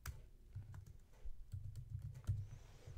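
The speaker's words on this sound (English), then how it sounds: "let me type that in" Computer keyboard typing in short bursts of clicky keystrokes while a search term is entered, fairly close and moderately loud, with no talking.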